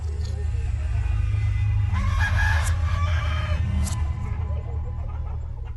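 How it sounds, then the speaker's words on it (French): Organic hens cluck steadily on a poultry farm while a rooster crows twice, the calls ringing out clearly over a low constant rumble and a busy background of birds. "J'élève des poules bio"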